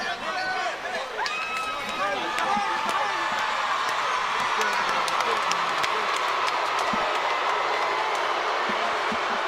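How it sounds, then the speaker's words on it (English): A boxing crowd at a fight event applauds and cheers in a dense, continuous roar, with a commentator talking over it throughout. "The crowd showing their approval and their appreciation."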